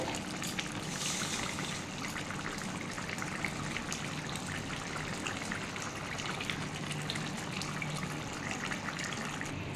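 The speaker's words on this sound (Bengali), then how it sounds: "এই মাছটা দিয়ে ফুটিয়ে নিচ্ছি" A pot of thin curry with puti fish, potatoes and parwal simmers steadily, giving a soft continuous bubbling and watery trickle with no voices.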